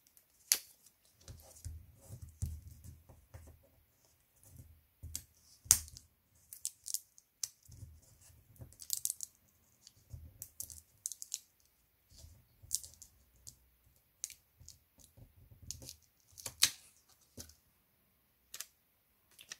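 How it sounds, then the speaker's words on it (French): Scissors snip small notches in transfer tape, a run of sharp close clicks and crisp cuts in an irregular rhythm, with soft rustling of the tape between snips in a quiet room. "je vais faire des petites encoches avec les ciseaux dans mon transfert tape"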